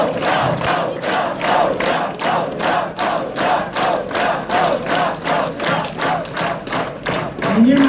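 A rally crowd in Ostrzeszów chants "bravo" in unison, a loud steady rhythmic chant of short repeated bursts about twice per second, with thumps and cheering mixed in.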